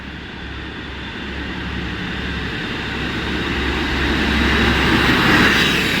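A nine-car Pullman passenger train passes at Doncaster heading toward York, a steady broad rumble that swells gradually and grows louder over several seconds as it approaches, with no talk.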